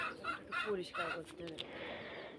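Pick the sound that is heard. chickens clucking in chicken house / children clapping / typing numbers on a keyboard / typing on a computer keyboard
chickens clucking in chicken house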